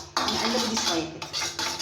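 Utensil clinks and scraping in a bowl as a dough mixture of baking powder and ghee is stirred, with a few quick metallic taps and brief strokes, close and fairly quiet.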